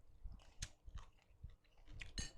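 Someone eats spicy pounded shrimp salad (tam kung), close, crisp crunchy bites and wet chewing in an irregular rhythm, quiet and intimate with no talking.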